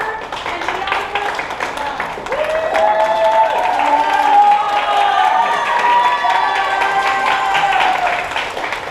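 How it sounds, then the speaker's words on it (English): A camp show audience breaks into steady, dense applause with scattered cheers, sustained for several seconds while voices call out over the clapping. "Let's give a big round of applause to our photographer and videographer."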